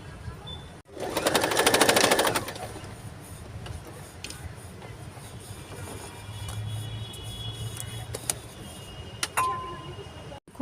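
Sewing machine stitching a newborn baby cap, a dense burst of fast needle chatter near the start, then quieter intermittent machine hum and ticks, with a few sharp clicks toward the end.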